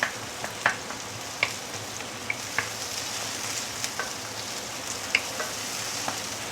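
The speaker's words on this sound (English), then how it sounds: "So let's saute this for a minute or two before we continue." Coriander roots, ginger, garlic and shallot sizzle steadily in a pan, a constant frying hiss marked by scattered clicks and taps of a utensil, close and moderately loud, no talking.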